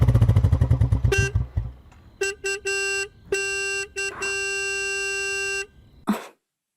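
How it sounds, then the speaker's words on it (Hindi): A car horn outside honks in a string of loud, sustained blasts of uneven length, with brief gaps between them, after a few rapid low thuds at the start. "देखो कोई बाहर हॉर्न बजा रहा है।"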